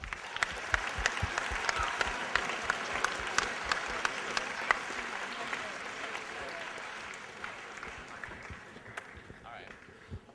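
Steady applause from a school assembly audience at a fine arts event, dense clapping filling the hall for about ten seconds and tapering slightly near the end.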